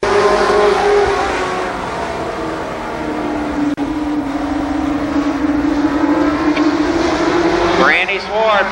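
Limited sportsman race cars at Columbus Motor Speedway in 1993: a loud, continuous engine drone with a pitch that shifts as the cars pass, and a commentator talking over it.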